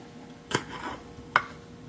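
Two crisp knife chops cut the ends off onions on a cutting board, sharp isolated thuds spaced under a second apart, close and clear in a quiet kitchen.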